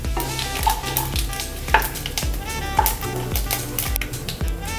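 Mustard seeds and cumin sizzle and crackle in hot oil as a Hindi-style tempering roasts, with steady frying hiss and repeated scraping stirs of a spoon against the pan, close and fairly loud, no talking.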